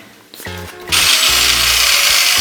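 A power sander with a sanding disc attachment whirs loudly and steadily across a surface after a few short mechanical bumps and starts.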